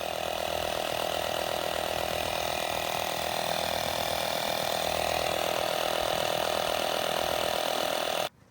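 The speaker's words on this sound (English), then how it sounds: "Today we're using an electronic tyre pump which has tyre pressure gauge built in" Electronic tyre pump with a built-in pressure gauge inflates the low rear tyre of a Mercedes C-Class, a loud, steady buzzing mechanical drone that runs unbroken for about eight seconds before cutting off abruptly.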